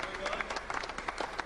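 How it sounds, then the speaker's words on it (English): Scattered, half-hearted applause from an audience at a robot combat arena show, a brief thin patter of claps. "Pity claps."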